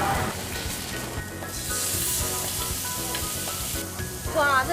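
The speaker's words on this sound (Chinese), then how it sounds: "小姐，那我先帮你煎一下猪五花肉了" Pork belly sizzles on a Korean barbecue grill, a steady close crackling hiss of fat frying that swells in places, with faint restaurant sounds behind.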